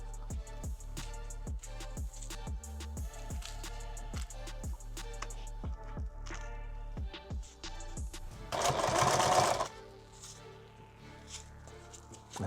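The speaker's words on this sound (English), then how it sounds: "I feel like I'm not sewing through webbing" Sewing machine stitching through old Vietnam-era pack webbing, a steady run of rapid needle strokes that pauses, followed by a short burst of rustling, close and fairly loud with no talk.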